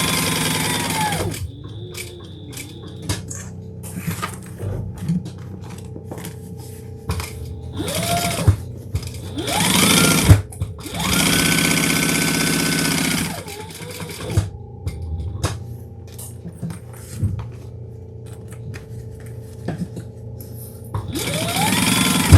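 A sewing machine stitches around the sides and bottom of a large fabric pocket for an everyday bag, running in several bursts of rapid, steady whirring separated by short pauses and fabric handling, close and fairly loud.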